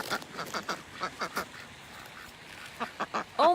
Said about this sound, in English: it looks like there's about a dozen ducks in there